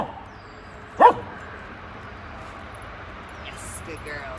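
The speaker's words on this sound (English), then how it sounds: "Instead of barking at the people going by." A dog outdoors gives a single short, sharp bark against a quiet background, with faint distant noise afterward.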